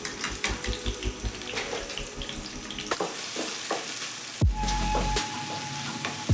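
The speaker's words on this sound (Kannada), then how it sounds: "ಹೈ ಫ್ಲೇಮಲ್ಲೇ ಇಟ್ಕೊಂಡು ಫ್ರೈ ಮಾಡ್ಕೋತಾ ಇದ್ದೀನಿ" Thinly sliced onions frying on high flame in castor oil, a dense, continuous sizzle with occasional stirring knocks, close up; partway through it gives way to a rushing, water-like hiss and a brief steady tone.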